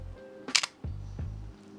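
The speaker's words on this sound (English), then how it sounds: "That's the mirror flipping up." As the shutter is pressed, a single-lens reflex camera's mirror flips up with one sharp, close mechanical clack, followed by faint low clicks and quiet handling sounds.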